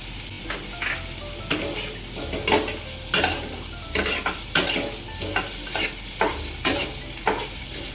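Tomatoes frying in a hot pan for a puffed rice snack, with a steady sizzle under rhythmic, evenly spaced scrapes and taps of a spoon stirring against the pan, close and fairly loud.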